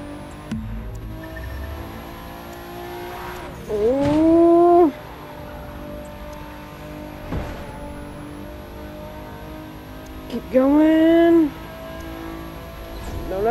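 A race car engine drones steadily in The Crew 2 video game, played with a racing wheel, and twice swells into loud, rising revs before settling back to a steady hum.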